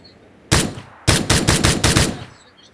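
Gunfire in PUBG Mobile: one loud, close shot, then after a short pause a rapid burst of about six shots in quick succession, with no talking.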